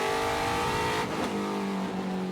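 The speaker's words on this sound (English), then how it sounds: "I think this car sounds tremendous." Trans Am Series race car at Sonoma roaring loud and close, its engine note holding steady and then dropping in pitch as it downshifts or passes, with no voices over it.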